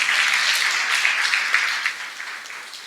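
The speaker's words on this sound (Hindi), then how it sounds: "क्यों जोरदार तरीके से तालियां बजाएंगे यीशु मसीह के लिए।" Church congregation applauding at a Resurrection Day service, a dense, steady wash of many hands clapping that holds loud throughout and eases slightly toward the end, with no voices over it.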